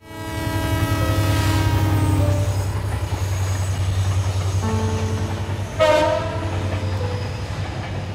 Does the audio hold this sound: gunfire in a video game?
no